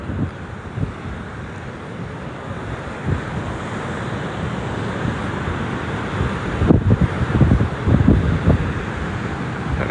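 Wind buffeting the microphone and choppy sea waves washing in on a beach at Protaras, Cyprus, on a windy day, a steady rumbling roar with gusty swells, no talking.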